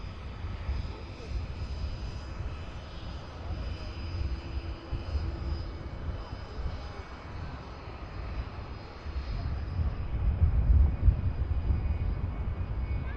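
An aircraft departs from Manchester Airport, a broad low rumbling roar that holds steady at a distance and swells louder toward the end, with no talk over it.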